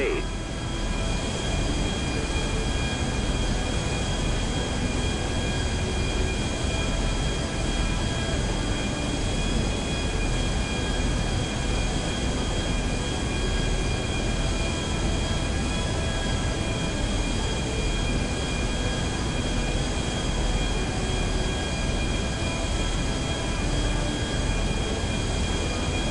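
Steady aircraft engine drone from a plane flying over restricted airspace in GTA 5, a constant loud hum with tonal whine running unbroken throughout.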